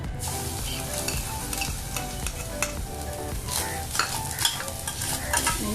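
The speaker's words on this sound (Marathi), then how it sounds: "दोन मिनटं तुपामध्ये खोबरं व्यवस्थित असं मिक्स करून घेते" Grated coconut stirred in ghee in a pan for modak stuffing, a continuous crackling sizzle broken by repeated scraping strokes of a spoon, close and moderately loud.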